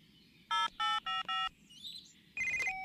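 Electronic telephone tones play close and clear: four quick beeping bursts, then a pause with faint chirps, then a longer ringing tone.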